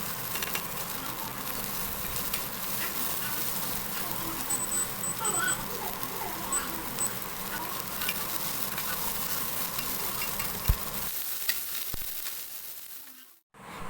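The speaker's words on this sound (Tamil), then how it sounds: "இது கூட எல்லாமே சேர்த்துட்டு நல்லா ஃப்ரை பண்ணிக்கோங்க" Capsicum and onion frying at medium heat in a pan for homemade chicken rice, a steady close sizzle with stirring scrapes throughout, then the sizzle drops away near the end.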